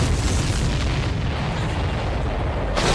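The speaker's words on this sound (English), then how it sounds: "The missile hit its target. Everybody, keep a safe distance to avoid getting caught in the explosion." A missile strikes a supply ship in the video game Ace Combat 7, setting off a loud, deep explosion that rumbles on continuously for several seconds, with a fresh burst at the end.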